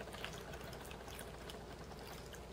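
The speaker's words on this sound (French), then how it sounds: "je vais verser le café. Ça coule partout." Coffee pours into a glass for iced coffee, a faint, steady trickling stream lasting a couple of seconds with no talking.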